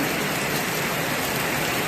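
An unseasonal downpour falls on paddy rice spread out to dry, a dense, steady hiss of rain that stays loud and close throughout with no voices.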